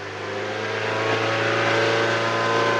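A 2010 Maruti Suzuki SX4 engine held at a steady high rev of around 2500 to 3000 RPM during CNG kit calibration, a loud, continuous close-up drone with a gently rising pitch and no talk.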